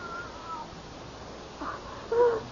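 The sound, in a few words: cat meowing in a radio drama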